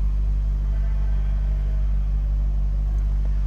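A 2004 Chevrolet Corvette idles steadily in a close, low, continuous rumble with no revving, a smooth even drone.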